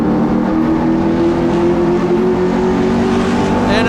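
Super street race cars racing at Wiscasset Speedway, loud engines roaring continuously as a pack runs together, with a steady droning pitch and no pause.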